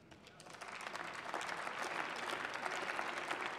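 Applause fills the German Bundestag chamber during a parliamentary debate, a broad wash of clapping that builds from a softer start into a steady, full roar of many hands, with faint crowd murmur beneath.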